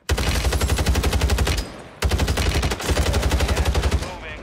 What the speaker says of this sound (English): the artillery's over here